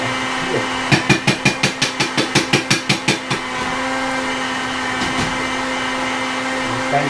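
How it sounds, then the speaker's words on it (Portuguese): Electric mixer beating eggs with watered-down milk: a steady whirring motor hum, with a quick run of rhythmic knocking taps early on before it settles into an even drone. "Chamo na batedeira, enquanto o ovo tá lá."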